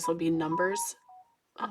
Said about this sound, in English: that was my phone. I thought I had turned it down